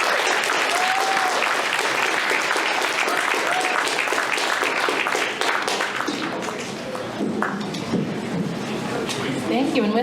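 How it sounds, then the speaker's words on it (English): University student debate audience applauds in sustained, dense clapping that fills the room, then thins and dips briefly before swelling again, with some voices mixed in. "Applause."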